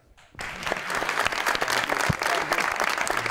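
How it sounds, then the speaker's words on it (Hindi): Audience applause in a television talk show studio, starting abruptly after a brief quiet moment and continuing as loud, dense clapping with some crowd noise. "ये देखें तालियां।"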